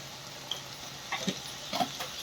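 A spoon stirs turmeric and garam masala into shavige bath cooking in oil in a pan, producing soft scraping strokes at about 1.1 and 1.8 seconds over a faint, steady sizzle.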